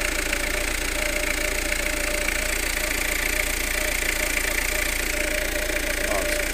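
A 2008 Peugeot Partner engine idles steadily nearby, a constant loud mechanical hum with a faint rhythmic knock, unbroken and with no talk over it.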